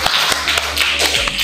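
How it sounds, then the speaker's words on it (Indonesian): Classroom applause from a group of students and teacher, a steady patter of hand claps with sharp individual taps, close and continuous for the whole moment. "tepuk tangan dulu untuk kita semua."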